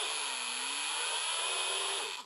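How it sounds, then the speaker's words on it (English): Pneumatic rivnut tool crushing a rivnut into a factory hole in a Promaster van ceiling, a steady loud hiss of compressed air with a faint rising whine, running continuously for about two seconds. "This is what happens when you crush a Rivnut in a factory hole."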